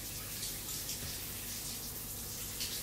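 Shower water running in a steady, faint hiss with no breaks or clear voices over it.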